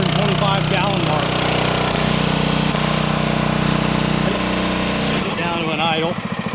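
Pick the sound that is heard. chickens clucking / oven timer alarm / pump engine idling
pump engine idling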